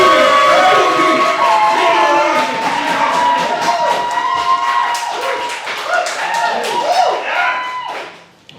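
An audience at a live show claps and cheers enthusiastically, with dense applause and excited voices building for several seconds before fading out at the end.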